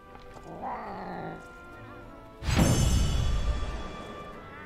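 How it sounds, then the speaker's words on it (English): A cat yowls and growls somewhere in the background of a game stream, a wavering cry followed by a louder, noisy burst of agitated sound lasting a couple of seconds. "That cat is going nuts back there."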